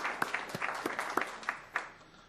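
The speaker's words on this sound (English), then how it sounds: "we'll take that applause" Scattered, sparse applause from a small group at a school district event, a few distinct claps popping out over a quiet room, fairly faint and tapering off.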